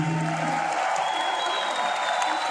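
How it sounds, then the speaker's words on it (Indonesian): A crowd at a university seminar on big data in cyber security applauds the speaker, continuous loud clapping with some cheering mixed in, over a steady tonal hum from the room's sound system. "Berikan tepuk tangan yang meriah untuk pembicara kita yang sangat luar biasa pada siang hari ini"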